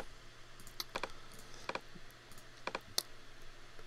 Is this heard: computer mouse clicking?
yes